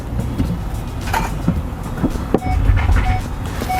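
A Honda Pilot with an all-wheel-drive system backs up slowly in reverse in normal mode, giving a low vehicle hum broken by several soft clunks and knocks.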